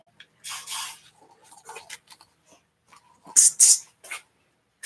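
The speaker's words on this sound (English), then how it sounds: "I'm going to use the WD-40 silicone spray for my cups" WD-40 silicone spray is sprayed into paint cups for acrylic pouring: two short hissing bursts, the second louder, with faint handling clicks and rustles between them in a quiet room.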